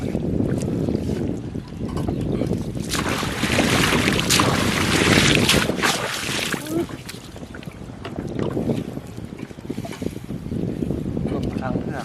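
Gusty outdoor wind buffets the microphone beside a boat on open water, a loud continuous rumble that surges and eases, with someone talking over it at times.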